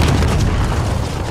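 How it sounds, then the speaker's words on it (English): A gas grenade bursts in the video game Call of Duty Warzone, a loud, low, close boom that rolls on briefly before a second sharp hit at the end. "A gas grenade in here."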